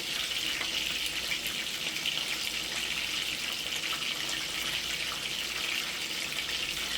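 Tap water runs steadily into a kitchen sink while scallions are washed for a Sunday dinner cooking session, a continuous even hiss-like splash with no talk.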